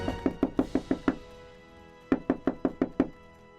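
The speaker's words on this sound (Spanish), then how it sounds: "En esos momentos tocaron a la puerta." Knuckles rap on a wooden door in two bursts, six brisk knocks, a short pause, then six more, loud and close with no talking.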